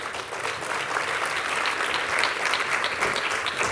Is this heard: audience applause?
yes